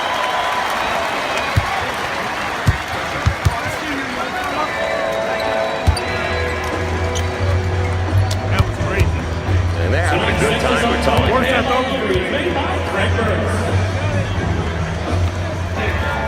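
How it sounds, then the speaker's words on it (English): A Dallas Mavericks arena crowd roars and applauds for Tony Romo amid sharp basketball bounces and squeaks, with a commentator talking over the sustained cheering that swells louder in the second half. "And listen to the crowd."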